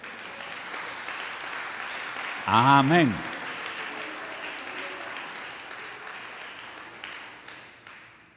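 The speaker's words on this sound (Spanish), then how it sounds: "Dale un aplauso al Señor" A church congregation claps for God in a short, loud burst of applause, while a preacher's voice carries on around it.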